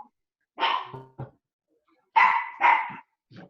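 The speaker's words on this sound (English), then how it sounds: "Hang on, let me get the dog here." A dog barks indoors in a few sharp bursts: a bark and short yips early on, then two louder barks in quick succession and a final small one, with quiet pauses between.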